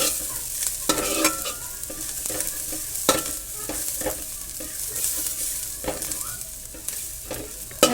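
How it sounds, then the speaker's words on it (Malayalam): Dried shrimp being roasted in a pan for a Palakkad-style bitter gourd curry, with constant stirring and scraping of a utensil over a soft sizzle, close and busy throughout. "അപ്പോൾ അത് നന്നായിട്ട് ഇതിൽ ഒന്ന് ചൂടാക്കി എടുക്കുക"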